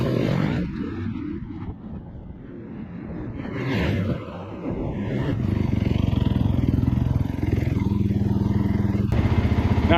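Kawasaki KX450 dirt bike engine running close by after an oil change, its loud motor note rising and falling through several revs and holding a steady, rough drone toward the end.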